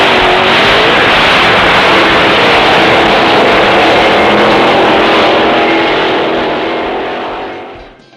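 V8 car engine revving loudly nearby, a dense continuous roar that holds steady for several seconds before fading away at the end, with no talk.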